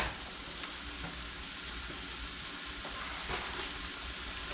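An omelette in a pan being shaken as it sizzles, a steady close crackle of frying with a few faint scraping bumps and no speech.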